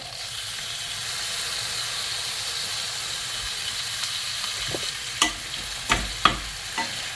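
Bacon fries over medium-high heat in a pan as the fat renders, a constant close sizzle and hiss with a few louder pops and scrapes near the end.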